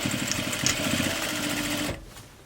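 A sewing machine stitches to the edge of a reversible grocery tote bag, a close, steady buzzing whir with a rapid mechanical pulse that cuts off abruptly near the end.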